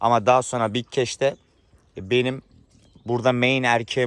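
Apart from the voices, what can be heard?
None of the usual background noises is heard.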